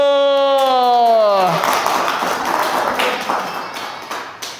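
A classroom group claps their hands together after singing, a dense burst of applause that rises over a fading sung note and then thins out over several seconds.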